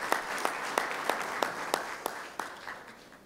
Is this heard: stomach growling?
no